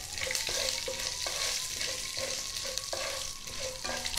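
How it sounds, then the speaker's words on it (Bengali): Black mustard seeds splutter in hot mustard oil in a wok for tempering, a dense loud sizzle with repeated scraping stirs at an even rhythm. "কালো সর্ষে ফোড়ন দিয়ে দিচ্ছি।"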